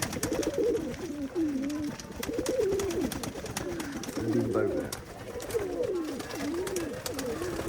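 Young pigeons in a coop coo steadily in repeated rising and falling phrases, close and fairly loud, with brief talking partway through.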